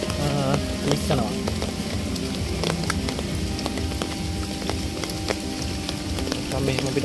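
Rain falls steadily through a Sri Lankan rainforest, a dense hiss of drops pattering on leaves and ground with scattered sharper drips, continuous and fairly close.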